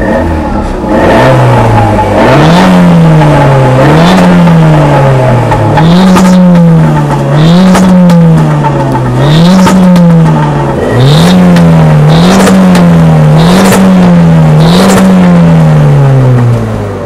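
A Renault Mégane RS engine is revved repeatedly and loudly, each rise in pitch followed by a drop, in a steady rhythm of about eight close-miked surges with no talking.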